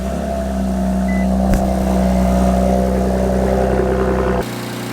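An Infiniti Q50 engine runs at a steady idle, a loud continuous low hum with a brief knock partway through, then drops to a quieter tone near the end.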